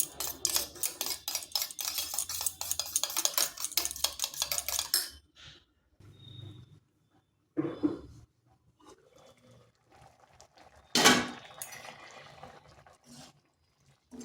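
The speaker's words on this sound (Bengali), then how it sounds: "এরপর ডিমটা ভালো করে ফেটিয়ে নিচ্ছি।" Two eggs with chili powder and salt are beaten in a bowl. A utensil clicks in a rapid, steady rhythm for about five seconds, then gives way to sparse, quieter kitchen clatter and a brief splash.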